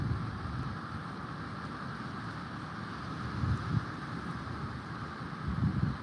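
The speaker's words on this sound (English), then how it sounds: "Yeah, it is really windy." Wind blows steadily outdoors in Northern Michigan after an ice storm, a low, faint rumbling rush with microphone buffeting that swells in a couple of gusts.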